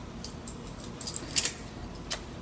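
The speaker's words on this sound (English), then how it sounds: "For the buckles, throw on the leg straps real quick." Metal buckles and leg straps being fastened on a fall-protection safety harness, producing a few light metallic clinks and jingles close by, scattered across a quiet background.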